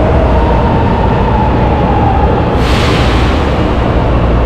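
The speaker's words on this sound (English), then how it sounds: "We got the metro coming by, train." A metro train rolls through a São Paulo station with a loud, steady roar that fills the platform, brightening with a rushing hiss partway through.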